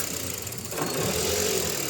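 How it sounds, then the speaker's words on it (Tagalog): A Mitsubishi Xpander engine idles steadily and close by, its constant mechanical drone joined partway through by a broad hiss as throttle body cleaner is sprayed into the intake. "Yan mga boss, napa-start na ni customer itong makina. Kaya isprayan ko na yan itong throttle body cleaner."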